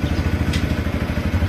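A motorcycle engine putters close by as Rakshakbhai rides off on his first home bike, a steady rhythmic thumping exhaust beat running evenly throughout.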